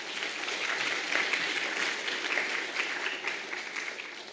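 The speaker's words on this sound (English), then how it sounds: "Give her a round of applause." A room full of people at a university presidential investiture ceremony claps steadily, a dense, even patter of applause that carries on without pause.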